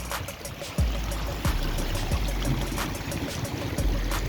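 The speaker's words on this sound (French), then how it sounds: "Un vrai ruisseau." Small stream of water trickling into rocky tidal pools, a steady close burble and splash with irregular soft knocks and thumps, no talking.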